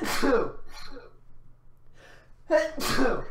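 Two sneezes from a person, each a sharp intake followed by a loud burst, separated by a couple of seconds of quiet breathing, close to the microphone.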